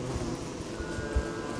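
Killer bees buzz in the video game Don't Starve, a steady, close insect drone that fills the moment alone without speech.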